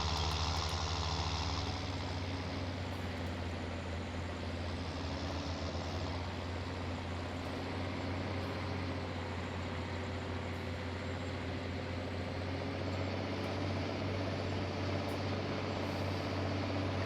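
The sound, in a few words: truck engine brake in Farming Simulator 19 video game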